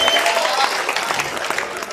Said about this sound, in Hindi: तालियों से समर्थन तो करो